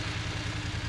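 A Voge DS900X motorcycle idles with its 895cc liquid-cooled inline twin engine and 270-degree crankshaft, giving a steady, low, rhythmic thrum heard up close and alone.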